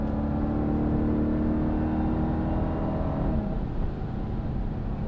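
A 2021 Dodge Durango SRT Hellcat on a track drones loudly and continuously as it accelerates out of a corner, with a steady close engine roar and no talking.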